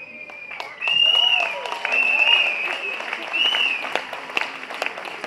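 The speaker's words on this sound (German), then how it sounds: "Applaus" Audience applause after a speech in Berlin, sustained clapping from a crowd with voices and cheers mixed in, starting abruptly and continuing loud throughout.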